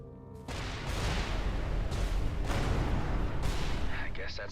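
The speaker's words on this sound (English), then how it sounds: "Please attain some distance while I detonate the onboard explosives." Onboard explosives on a freighter detonating in the space game Everspace 2, a deep rumbling blast with repeated heavy booms rolling over several seconds, loud and close.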